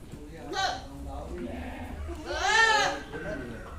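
A Boer crossbreed goat bleats twice, a short wavering call followed by a louder, longer one, close by in a farm pen.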